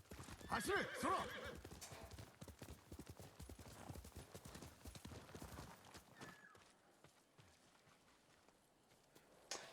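Horse hooves clip-clop at a gallop in Ghost of Tsushima, loud and close for the first several seconds, with a sharp whinny partway through before the hoofbeats fade to quieter steps.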